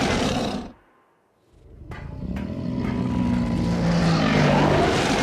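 A deep, rumbling T-Rex roar from a video game swells up after a brief silence and keeps growing louder and fuller, holding as a sustained bellow to the end.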